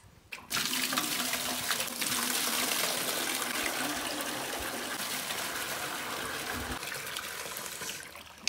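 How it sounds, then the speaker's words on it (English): Water gushing steadily from a farm tap or hose into buckets, a loud continuous rushing stream that starts abruptly and runs for several seconds before easing. "Time to fill up water buckets."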